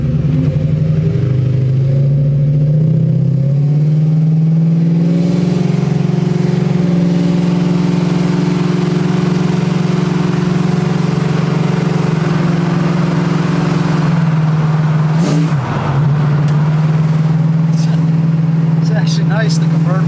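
A convertible car's engine runs loudly and steadily at close range, its pitch climbing as it revs, then dipping briefly and settling back to a strong hum.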